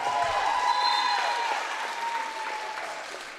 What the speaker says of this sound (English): that got the crowd fired up